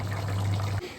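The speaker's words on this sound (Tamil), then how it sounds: "அட்ல கொஞ்சம் தண்ணி ஊத்தி விடு." Water poured from a vessel into a cooking pan during home cooking, a steady close splashing pour lasting under a second before it stops abruptly, with no talking over it.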